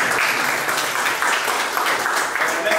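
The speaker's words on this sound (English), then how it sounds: "Okay, big round of applause for Paolo." Audience applause at a Python programming meetup in Belgrade, a steady wash of clapping from a crowd that sustains evenly for about three seconds, fairly loud and close, with no speech over it.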